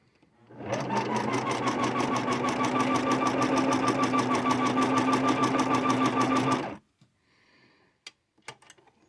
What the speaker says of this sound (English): I'm going to sew right very close to the edge of the fabric.